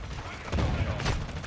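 A shotgun blast or two in a first-person shooter video game, with short punchy bursts over a busy background of game noise, close and fairly loud.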